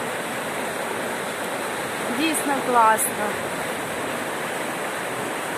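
A river flowing below a bank at Kryvyi Rih in winter, a steady, broad rushing wash close by that runs unbroken throughout, while someone briefly speaks over it.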